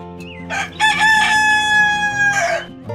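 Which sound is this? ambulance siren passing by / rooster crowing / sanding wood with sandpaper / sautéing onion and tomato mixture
rooster crowing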